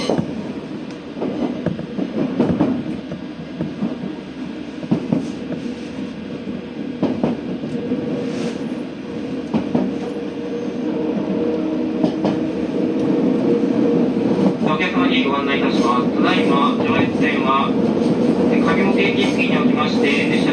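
A Joetsu Line down train bound for Minakami pulls away from platform 3 at Shibukawa Station: a steady low rumble swells, and a rising electric motor whine joins near the end, with station announcements heard over it.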